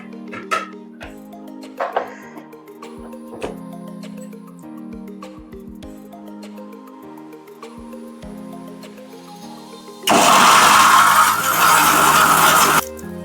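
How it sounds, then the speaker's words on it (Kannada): Kitchen clatter and handling of a mixer jar give way to a mixer grinder whirring loudly for about three seconds as it grinds ginger, mint and other herbs into a spice paste. "ಮಿಕ್ಸಿ ಜಾಸ್ತಿ ಆಗ್ತಿದೆ, ಮತ್ತೊಂದ್ಸಲ ಹಾಕೊಂಡು ರುಬ್ತೀನಿ"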